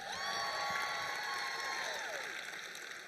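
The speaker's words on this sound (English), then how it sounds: "Give yourselves a big round of applause." A crowd of young people at the Texas Youth Summit applauding and cheering, a continuous bed of clapping with whoops and shouts, fairly distant and fading slightly toward the end.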